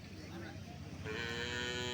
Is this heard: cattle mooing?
yes